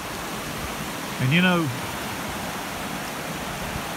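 A flooded farm creek spills off its bank in a constant rushing wash, and a voice speaks briefly over the water partway through.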